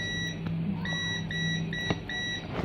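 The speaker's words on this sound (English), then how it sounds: "If it makes the beep sound, meaning it is working." A multimeter beeping on its continuity setting with its positive and negative probe terminals crossed, a steady high electronic tone sounding in short repeated bursts close by.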